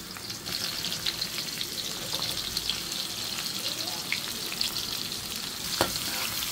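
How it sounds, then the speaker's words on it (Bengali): Chopped onion, garlic and whole cumin crackle and sizzle continuously in hot oil for a dal tempering, with a few faint stirring clinks over the steady hiss. "আমি রসুন পেঁয়াজটা একটু লাল করে ভেজে নেব।"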